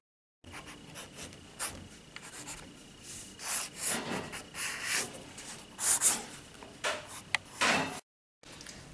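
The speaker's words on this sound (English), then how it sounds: "So I'm going to go in there with my magic eraser and get rid of it." A magic eraser scrubs across paper to rub out a pencil dinosaur drawing, giving soft, uneven rubbing and scratching strokes in short bursts, close and quiet, with no talking.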